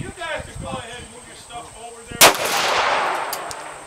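.44 Magnum revolver fired with a 240-grain full-power round outdoors at a target, a single loud sharp crack with a rolling echo, preceded by a voice talking.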